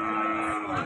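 A calf at a cattle market gives a single sustained moo with a steady, tonal drone, close and fairly loud, filling nearly a second without pause.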